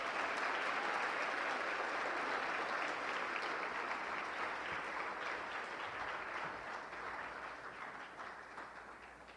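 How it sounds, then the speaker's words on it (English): A gala audience at a medical association's annual leadership conference gives a sustained round of applause, thick and steady at first, then slowly tapering off. "let's please give her a great round of applause"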